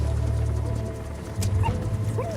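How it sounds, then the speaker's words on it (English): A young puppy of uncertain breed makes short yips and whimpering sounds, close by and fairly loud over a low steady background hum, with no talk. "Here's the dog you brought back."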